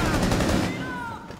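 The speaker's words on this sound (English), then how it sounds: "There's like four guys shooting at me right now." Enemy gunfire in Rainbow Six Siege during a Chalet terrorist hunt, a steady dense burst of rapid shots rolling together at close range, fading slightly toward the end with a thin whine.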